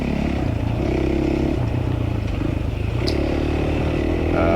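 A fuel-injected 450 enduro motorcycle engine drones steadily and loudly at close range during a hard enduro race. Faint clatter sits beneath the engine.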